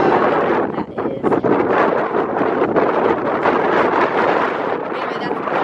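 Wind gusting across an open snowy field, piling snow into drifts, roaring steadily close to the microphone with buffeting bursts.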